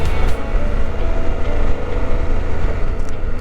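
A motorcycle rolls over a loose gravel road with a steady engine drone, wind buffeting and a rough rumble from the tyres. It is loud and close, with no voices.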